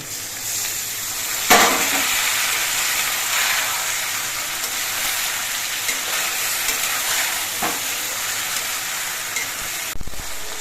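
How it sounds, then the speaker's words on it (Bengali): Taro stolons with spices and a little masala water fry in a pan over a gas flame, giving a steady, even sizzle with a couple of brief clanks from stirring. "কচুলতিগুলো বেশ কিছুক্ষণ রান্না করে নিয়েছি"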